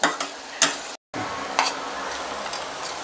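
Banana flower fry scraped and stirred in a hot pan, giving close, bursty spatula strokes over a steady sizzle, with a brief cut to silence near the start.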